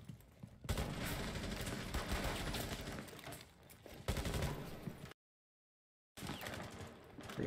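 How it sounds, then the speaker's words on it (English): Rapid bursts of gunfire from a Rainbow Six tactical shooter match fill most of the stretch, dense and loud, with a brief full silence before the firing resumes. "It's getting kind of pinned in this gunfire."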